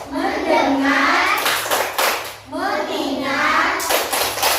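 A classroom of children doing a rhythmic clapping routine led by a teacher, with loud group claps in bursts and children's voices chanting along.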